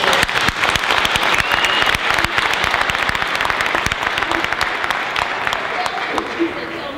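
Dense, sustained applause from a large crowd fills the whole stretch, steady and loud without letting up.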